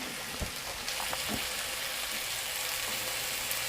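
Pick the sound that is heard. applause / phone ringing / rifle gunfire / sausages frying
sausages frying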